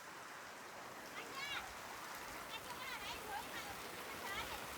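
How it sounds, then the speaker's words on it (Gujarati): Steady rain falls with wind in a soft, even wash of patter, fairly faint, while voices are heard faintly in the background. "પવન વરસાદ વધારે આવી ગયો"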